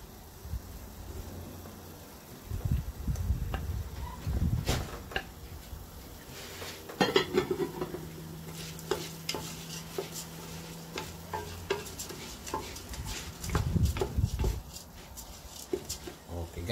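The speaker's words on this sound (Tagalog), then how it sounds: "Ilagay ko na po ang luya." Ginger is added to a hot pot for arroz caldo and stirred, with soft sizzling, clinks of a utensil against the pan and scraping bursts, while someone talks intermittently over the cooking.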